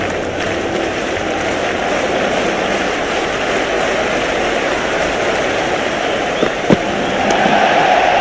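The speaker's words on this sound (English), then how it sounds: "It's almost palpable, the excitement emanating from this crowd at the moment." A cricket stadium crowd at an India versus Pakistan match keeps up a steady, loud roar from start to finish, with a brief sharp knock near the end.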